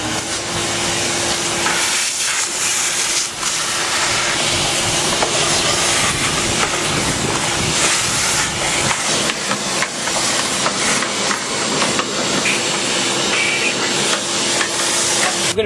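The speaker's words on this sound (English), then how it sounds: "Now I'm going to take out the trusty vacuum cleaner hose" A loud, steady vacuum cleaner hose roars throughout while cleaning a wood pellet stove, with a constant hissing whine and a low hum, no pauses or talk.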